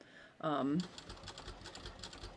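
A domestic sewing machine stitches down the small fabric triangles of a decorative welt pocket on a bathrobe, running in a quick steady patter at close range after a brief burst of speech.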